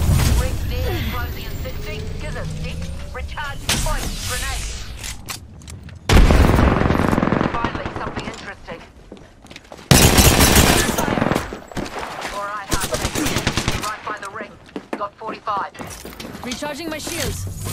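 Automatic weapon bursts and single shots crack out in an Apex Legends firefight, loud and irregular, mixed with impact and mechanical sounds while a voice speaks over the action.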